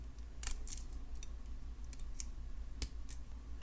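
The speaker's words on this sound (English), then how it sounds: "Snip off the excess pin" Small cutters snipping excess jewelry head pin wire, a few sharp, quiet clicks scattered over a low hum, close and faint.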